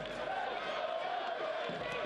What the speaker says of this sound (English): Let's go Oakland chants ring up from the crowd here at Laney College.